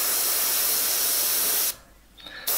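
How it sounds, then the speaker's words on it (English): An airbrush spraying paint lightly through a texture onto a rose in a portrait, a steady close hiss that cuts off, leaves a quiet gap, then starts again softly. "So I'm just spraying through the texture ever so lightly."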